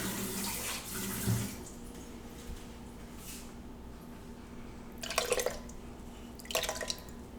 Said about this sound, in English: I'm just getting a little more tap water